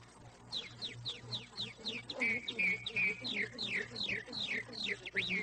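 A human voice imitates a red-winged blackbird call on old-time radio, a rapid run of sharp whistled chirps repeating in quick succession, fairly faint over a low background hum.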